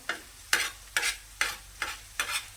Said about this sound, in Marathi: हा मसाला आहेत ना बाजूने काढून घ्यायचा